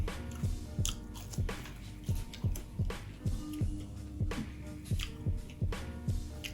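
Chewing and biting on homemade copies of a McDonald's order, fries with mayo, in a close, steady rhythm of soft crunchy bites and squishy mastication repeating about every half second, with no talking.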